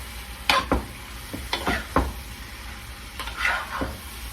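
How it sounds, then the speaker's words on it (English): Seafood sizzles in a pot while a utensil scrapes and stirs, making several clattering bursts over a steady frying hiss. "Y'all hear that sizzling?"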